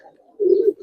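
A pair of silver pigeons gives one short, close coo that swells in the second half after a quiet start, with no voices.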